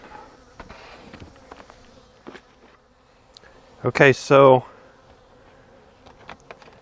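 Honey bees buzz around an opened hive during an inspection, a short loud burst of close buzzing rising over faint background hum and scattered clicks, with a brief spoken remark nearby.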